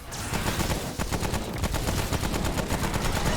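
Shotgun blasts in the video game Remnant: From the Ashes come in a rapid, dense string of loud, close reports that barely let up across the stretch, with no voices over them.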